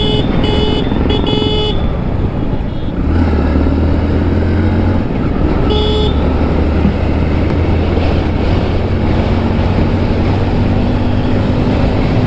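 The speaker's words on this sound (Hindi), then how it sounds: "तो चलो अभी हाई स्पीड पे हायाबुसा लेके निकल देंगे हम।" Suzuki Hayabusa motorcycle at high speed on a highway, with a loud steady engine drone and heavy wind rush throughout, plus a few passing horn toots and other traffic.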